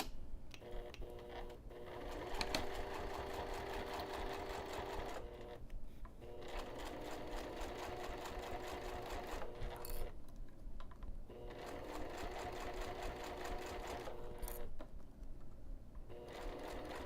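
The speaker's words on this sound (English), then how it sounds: "I'm going to take this over to the sewing machine, and I'm going to be stitching just this lower edge of the binding" A sewing machine runs in rapid bursts while top stitching the lower edge of fabric binding at a 3 mm stitch length, with short pauses between runs, close and fairly quiet.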